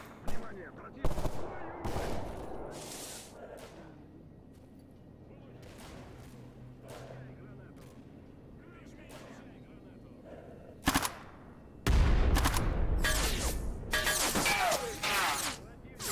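Bursts of gunfire ring out in a Stalker Anomaly firefight against mercenaries, scattered single shots and rapid automatic volleys coming in uneven clusters, some near and sharp, others more distant, with quiet ambient stretches between.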